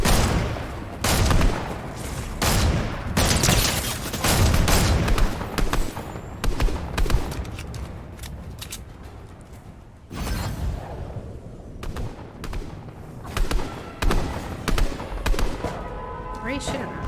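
Scattered gunfire in the Fortnite video game: repeated sharp shots and volleys crack over a steady background, with players talking throughout.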